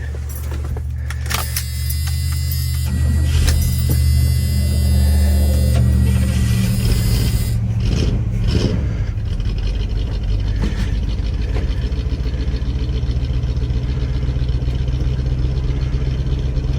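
A 1985 Chevrolet C10 pickup that sat unused for ten years runs with a steady low engine drone, loud and close, with some rattling and clinking near the start.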